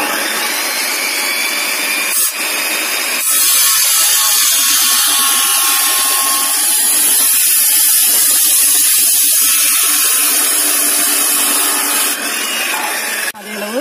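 A marked roof rafter for truss work is cut with a power saw, giving a loud continuous high whine and rasp that runs for most of the clip with brief dips, close by.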